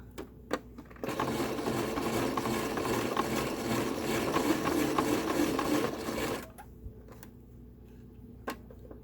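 A sewing machine stitches through a curved double-layer fabric face mask in one continuous run of about five seconds, a busy rapid whir that stops and is followed by faint handling clicks.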